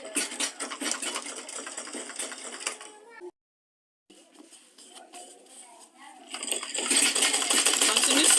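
A sewing machine stitches the side seam of a handmade fabric tote bag in rapid, steady runs, stopping briefly before starting again and growing louder toward the end. A voice speaks over the machine.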